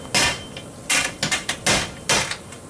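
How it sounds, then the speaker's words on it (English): A hammer repeatedly strikes to break a silicone seal while relocating a factory push pole: sharp, loud metallic knocks in an uneven series of about seven blows, close by with no talk. "I found that the best way to do it is you just take a hammer"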